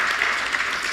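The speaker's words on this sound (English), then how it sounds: "Please, if you don't clap for my panelists," Audience applause for the panelists at a workplace learning panel discussion, an even, continuous clatter of many hands clapping at moderate volume.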